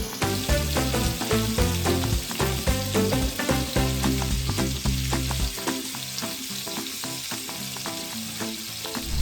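Chicken pieces pan-fried in oil, skin side down, sizzle steadily and loudly up close. The crackle runs unbroken for the whole stretch with no one speaking.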